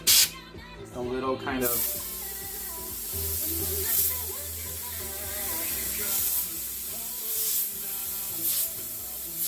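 An airbrush sprays paint onto a crop top t-shirt, giving a steady close hiss that runs almost continuously under a person talking.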